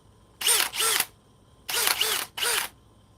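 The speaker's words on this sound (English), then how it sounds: "Let's see how far I can drive these before the drill quits." A cordless drill on speed 2 drives screws in four short bursts, two quick pulses, a pause, then two more, close and loud with no talking.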